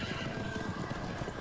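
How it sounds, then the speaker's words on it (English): Horses of the Wild Hunt in The Witcher 3 gallop and whinny during a chase, a steady dense rumble of hooves with neighing layered over it, loud and continuous for a brief moment with no talking. "their horses seem really fast"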